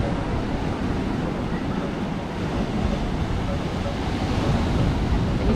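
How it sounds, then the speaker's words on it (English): Ocean waves at Tanah Lot in Bali, a steady broadband wash of surf close by, mixed with heavy wind rumble on the microphone and no clear speech. "Can you see how close we are to these waves?"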